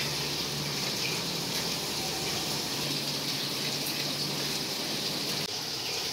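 Steady rain falls at a village home at the start of the rainy season, a dense, even hiss and patter that holds without a break from start to finish.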